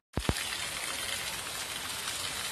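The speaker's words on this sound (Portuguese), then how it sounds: "Ô, chuva boa." Steady rain pours down outdoors near a gate during a rainstorm, a dense continuous hiss of drops on surfaces that starts abruptly after a couple of sharp knocks and continues without voices.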